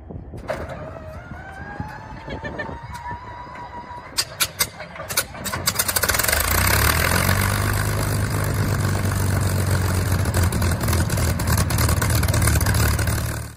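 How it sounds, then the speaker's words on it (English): A Supermarine Spitfire's cold Merlin engine starts with whining starter turns and a few sharp pops, then catches into a loud, rough, steady rumbling idle that runs close up until it cuts off. "this Spitfire's cold engine start."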